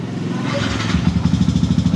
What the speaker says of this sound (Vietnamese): Rồi nổ máy lên giùm anh luôn